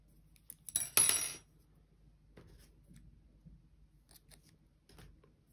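Scissors snip through knitting yarn as three stitches are cut together on a baby's knitted trouser, one short crisp cut near and fairly loud, followed by faint handling rustles in a quiet room.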